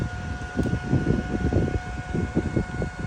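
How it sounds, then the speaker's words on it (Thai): Cooling fan inside a 5-amp power inverter running on battery power, a steady close whirring hum with a faint high whine, constant and alone without any talk. "คีย์แบตพัดลมจะทำงานเลยนะครับ"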